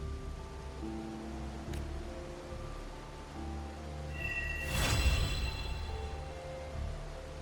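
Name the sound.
rain falling in the video game Wuthering Waves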